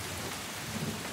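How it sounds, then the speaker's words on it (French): Heavy rain beating on windows with a low rumble of thunder underneath, a steady, dense wash of sound with no voices. "Dehors, le vent hurlait dans Baker Street, tandis que la pluie frappait violemment les fenêtres."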